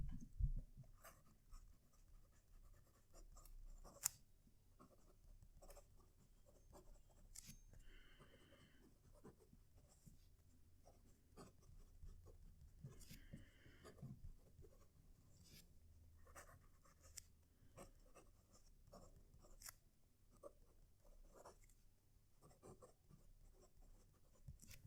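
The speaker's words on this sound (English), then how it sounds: "going to write the same sentence with each pen so that you can hear them" Noodlers Charlie fountain pen writing a sentence on paper, with close, steady scratchy nib strokes and short pauses between words, heard alone without talk.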